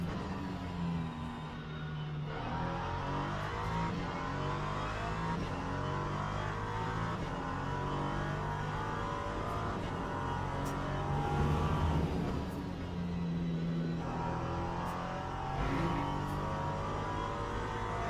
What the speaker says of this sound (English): We got a car around this corner.